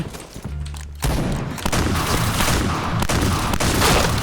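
Rapid gunfire in the video game Point Blank during a headshot-only match: a short quiet lead-in, then dense, loud bursts of shots fired in quick succession that run on without a break.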